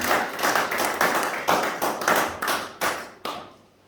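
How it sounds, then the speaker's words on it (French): Congregation clapping together in a church service, a rhythmic series of sharp, full claps at a steady beat that stops abruptly, leaving a brief quiet tail. "Acclamons."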